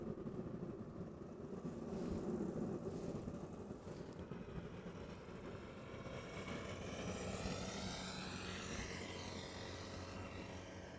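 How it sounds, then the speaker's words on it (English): A Transavia Boeing 737-800 arrives at Amsterdam Schiphol Airport. A steady, distant jet roar holds for about eleven seconds, faint and broad, with a rising whine building toward the end and no talk. "Got a Transavia 737 arriving from Ljubljana in Slovenia"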